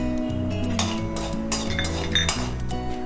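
Dried coriander seeds tipped into a pan of hot oil for a brinjal rasavangi, with metallic clinks and rattles of pan and utensils over a steady low background, close and moderately loud.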